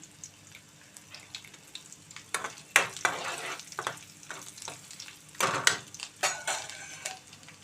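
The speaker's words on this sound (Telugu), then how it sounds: "తాలింపు వేస్తున్నానండి పప్పు కలాయిపోయి మీద పెట్టి ఆయిల్ వేసుకున్నాను తాలింపు గింజలు వేసాను" Tempering seeds, crushed garlic cloves and two chilies fry in oil in a pan for a dal with drumstick leaves, a soft crackling sizzle broken by clinking stirs and sharp spatula scrapes, close and moderately loud.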